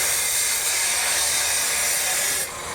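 Welding work on a house building site in the Philippines, a steady loud hissing, crackling roar held for nearly three seconds before dropping slightly at the end.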